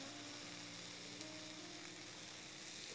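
Masala with peppercorn powder and garam masala, sautéing in a pan over moderate heat with crumbled idli, sizzles in a steady, dense hiss at low volume from start to finish.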